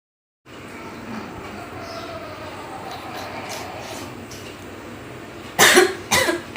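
Two short coughs burst out near the end, loud and close, after a long stretch of steady low background rumble.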